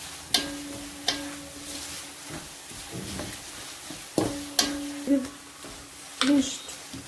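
Masala and urad dal being stirred in a frying pan, with a few sharp scrapes and clinks of a spoon against the pan over a soft sizzle, close by.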